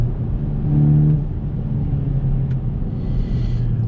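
A four-wheel-drive Volkswagen T-Roc R pulling hard out of corners, with a steady loud engine drone and low road rumble heard from inside the car and the engine note shifting slightly as it accelerates.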